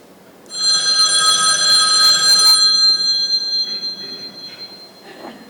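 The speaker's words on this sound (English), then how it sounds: "Sir, your phone is ringing." Telephone ringing with a bright electronic bell tone, one sustained ring lasting a couple of seconds that fades into softer trailing rings, heard alone without talk.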